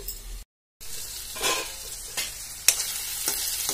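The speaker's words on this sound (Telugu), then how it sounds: "నేనైతే మధ్య మధ్యలో కలుపుకుంటూ మీకైతే చూపిస్తున్నా" Pointed gourd curry cooking in a pan while a spoon stirs it, giving a soft frying sizzle with scrapes and light clinks of the spoon against the pan. A brief dropout cuts the sound near the start.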